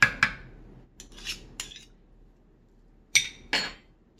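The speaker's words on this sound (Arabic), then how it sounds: "نحاول بقى نقلب كله عشان الملح والسكر يتقلبوا كويس" A spoon scrapes and clinks against a bowl while ghee, salt and sugar are stirred together, giving a few sharp, separate knocks spaced across a quiet background.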